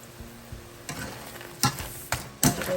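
Crawfish and shrimp being stirred in a pot with salt, giving scraping, clattering strokes that come in irregular bursts over a soft background sizzle, close and fairly quiet with no talking.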